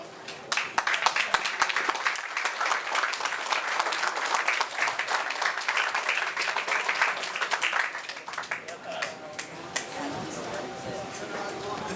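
Crowd at a veterans salute event applauds for about eight seconds, a full, steady patter of many hands, then tapers off into scattered claps and background murmur and talk.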